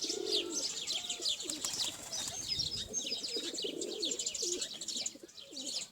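A flock of flown pigeons coos with soft repeated low calls while wings flap and flutter nearby. A steady outdoor bed of chirps sits underneath, and the sound fades slightly at the end.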